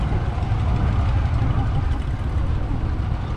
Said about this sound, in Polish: silnikiem jawki oczywiście, tak nam tutaj umila.